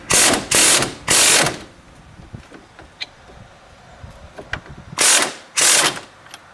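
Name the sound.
impact wrench loosening a strut bolt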